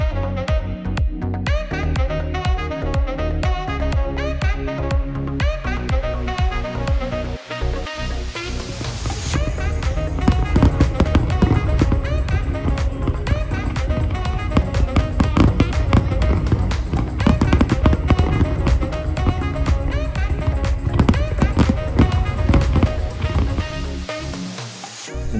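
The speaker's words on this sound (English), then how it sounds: "This is the best firework I've ever seen." New Year's fireworks over Copacabana Beach in Rio de Janeiro, a dense, loud, continuous barrage of booms and crackles lasting throughout, with a crowd cheering and talking beneath it.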